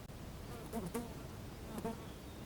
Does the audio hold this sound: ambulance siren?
no